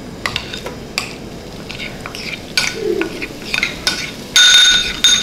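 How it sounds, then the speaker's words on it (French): Crumbled sardine with onions and garlic stirred in a frying pan, giving soft intermittent scraping and stirring strokes over a light sizzle, with a brief brighter clatter near the end. "Je veux bien mélanger tout ceci ensemble."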